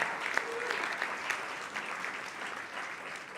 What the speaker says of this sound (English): One more round of applause for Ben and Lucia.